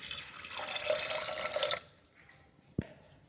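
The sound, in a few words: water poured into pressure cooker with peas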